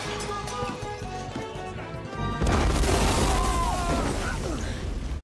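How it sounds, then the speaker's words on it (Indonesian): A large gas cylinder explodes with a heavy boom, followed by a sustained roaring rumble of debris and fire, loud and dense. "aksi pertarungan itu diakhiri dengan ledakan dari tabung gas yang sangat besar"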